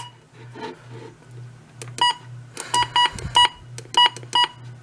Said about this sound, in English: Obviously, version 16 button beeps.